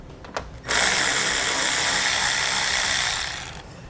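Power tool spinning out bolts with a 10mm socket on a 2018 Chevrolet Sonic, one steady whirring burst of about three seconds after a couple of short clicks, close and loud with no talk.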